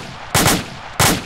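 Two sharp gunshots ring out in ArmA 2, loud and close, spaced a little over half a second apart, each a punchy crack with a brief rumbling tail.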